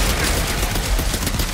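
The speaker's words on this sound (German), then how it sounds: "Es ist wie so ein schwerer Bolter bei Warhammer 40k" A heavy weapon in the shooter game Outriders fires a dense, continuous barrage of loud booming shots with little gap between them.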